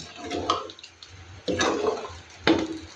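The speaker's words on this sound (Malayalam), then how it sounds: "ഇനി നമുക്ക് ആവശ്യമായ വെള്ളം കൂടി കൊടുക്കാം" Water pours into a pot of tamarind curry in three separate splashing bursts, each a short gush that fades before the next.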